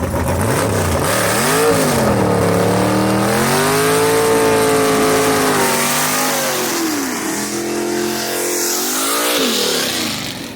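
A gasser drag race car at Knoxville Dragway, loud and close, revs its engine hard with rising and falling pitch sweeps that run for about ten seconds without pause.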